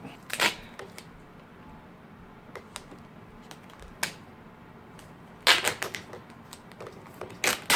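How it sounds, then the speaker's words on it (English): Dollar Tree duct tape wrapped around a broken broom stick splinted with chopsticks: a few sharp, crackly bursts of tape pulling and tearing, close by, separated by quiet stretches of low room noise. "And then I'm gonna tape around it."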